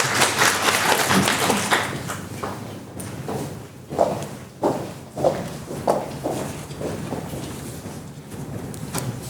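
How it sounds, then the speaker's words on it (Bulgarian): An audience at a poetry contest final applauds, dense clapping at first that thins into scattered, separate claps. "Доктор Красимира Терзиева, моля за вашите аплодисменти"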